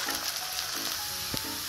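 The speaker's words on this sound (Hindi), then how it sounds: "अब हम इसमें ग्रीन चिली डाल देंगे, जिंजर पेस्ट डाल देंगे और इसको भी प्याज के साथ अच्छी तरह भून लेंगे।" Onions with green chili and ginger paste fry in a pan for Punjabi rajma masala, giving a close, continuous sizzle with a brief scrape of stirring.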